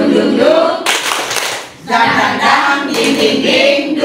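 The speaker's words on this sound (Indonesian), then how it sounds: "Tepuk semangat." A group claps the rhythmic "tepuk semangat" spirit clap together, with loud bursts of patterned clapping broken by short pauses, mixed with voices chanting along.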